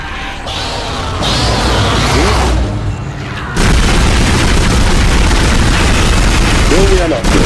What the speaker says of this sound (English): Apparently nothing wants to taste of my machine gun.